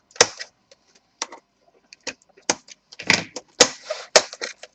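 A Toshiba Satellite A660 laptop keyboard is pried off with a sharp tool, giving a close series of sharp plastic clicks and snaps at irregular intervals with no talking.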